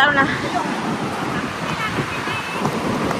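Ocean waves wash onto a beach in a steady, unbroken roar of surf, close and moderately loud, with no voices.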